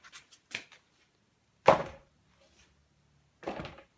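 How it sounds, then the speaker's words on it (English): Muffled footsteps from rubber-footed stilts, three dull thunks spaced well apart, the middle one loudest, with faint scuffs between them. "It's gonna sound like a muffled footstep"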